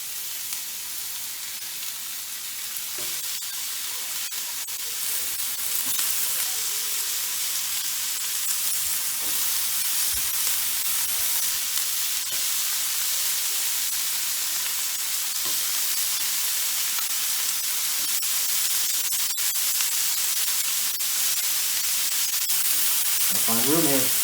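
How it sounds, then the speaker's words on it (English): Burger patties sizzling on a grill set to high heat: a steady, bright, hissing fry that stays loud and even throughout, with occasional faint clatter and no clear talk. "the grill is on high and I'm going to get the burgers on"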